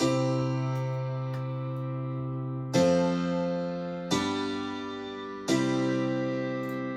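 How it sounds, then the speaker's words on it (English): Two layered M1 house piano parts in a heavily compressed happy hardcore arrangement, four bright sustained chords struck at steady intervals, each fading slowly, up front and alone with no talking. "So both of these use the M1 piano."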